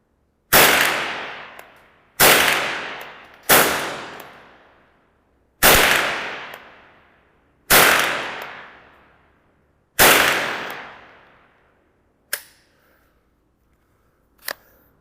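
A Remington Nylon 66 rifle fires six sharp shots at a 50-metre range, spaced one to two seconds apart, each a loud crack with a fading tail, followed by two quieter mechanical clicks; no talk.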